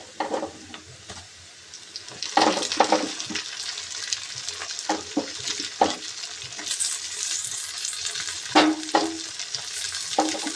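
Onion, curry leaves, green chilli and a little mint sauté in a pan for chicken curry: a loud, close sizzle broken by repeated scraping stirs of a spoon, swelling and settling as the pan is worked.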